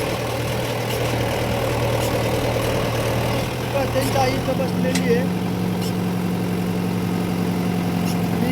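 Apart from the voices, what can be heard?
tractor engine running in a field for ploughing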